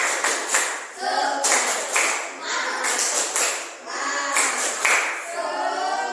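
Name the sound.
group doing a rhythmic 'tepuk semangat' spirit clap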